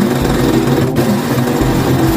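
A sewing machine hems an old polo shirt with a steady, loud mechanical whir and a constant motor hum throughout, with brief dips in the stitching rhythm.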